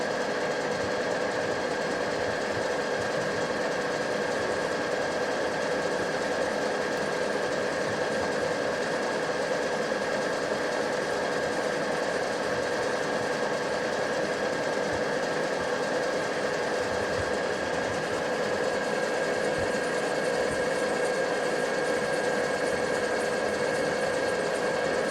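A Tree 2VG milling machine reaming out the bore of a Moto Guzzi 4-speed transmission cover; steady whirring mechanical drone with a constant tonal hum and faint chattering, unchanging and continuous with no voices.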